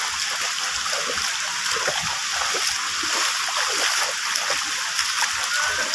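Steady rushing water fills the scene, a broad continuous wash with splashing texture, fairly close and unbroken throughout.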